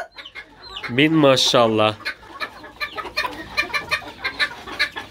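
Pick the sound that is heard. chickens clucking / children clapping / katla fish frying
chickens clucking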